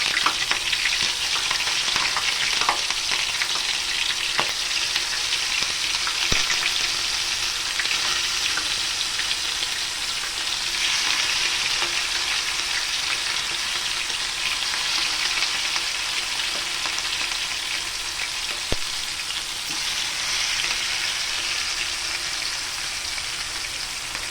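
Prawns fry with masala in a hot pan, giving a steady, loud, crackling sizzle that continues unbroken, with occasional faint stirring clicks and no talking.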